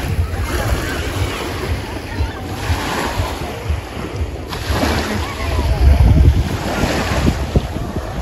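Sea waves washing in at a shallow beach, a continuous rush of surf mixed with gusty wind buffeting the microphone, with people talking over it throughout.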